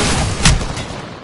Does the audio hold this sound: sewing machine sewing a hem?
no